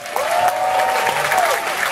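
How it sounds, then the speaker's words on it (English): Cruise ship audience at a farewell show aboard Mariner of the Seas applauding and cheering, a loud, dense wash of clapping with a sustained whistle-like cheer running through it for nearly two seconds. "Make some noise."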